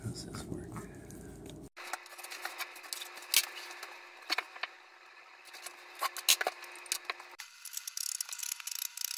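Scissors cut through fabric to make three-inch strips, a series of close, crisp snips and blade clicks in an irregular rhythm, with quiet speech at the start.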